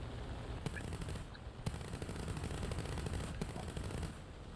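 Rapid aircraft machine gun fire from a Messerschmitt Bf 109 G-6 in War Thunder, short rattling bursts heard over a constant engine drone.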